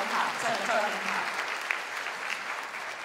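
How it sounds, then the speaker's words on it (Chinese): A church congregation at a Sunday worship evening breaks into steady, sustained clapping from many hands, with a few voices underneath. "所以我们给79们的陪读班的老师、志工们他们的掌声"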